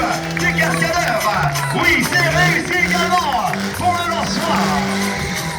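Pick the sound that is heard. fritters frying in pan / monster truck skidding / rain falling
monster truck skidding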